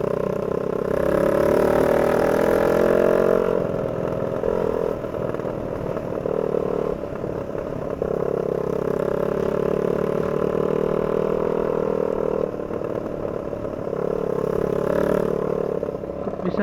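Motorcycle engine idling with its exhaust pipe detached, a loud, steady mid-pitched drone with a rough, clattering edge that runs the whole time with only brief dips and no talk over it.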